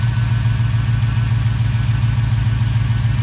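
A car engine idles steadily, close by and fairly loud, with an even low throbbing pulse and no voices, while the alternator on a car that keeps shutting off fails to charge the battery.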